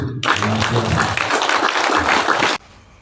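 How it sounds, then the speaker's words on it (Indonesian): An audience at a national seminar breaks into close, loud applause that rises quickly, holds as a dense roar of clapping, and then cuts off abruptly. "Tepuk tangan dulu"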